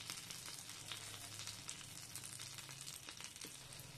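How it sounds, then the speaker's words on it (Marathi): Garlic sautéing in melted butter in a pan, a faint, steady crackling sizzle with scattered pops, close and continuous with no talk. "लसूण छान परतलाय"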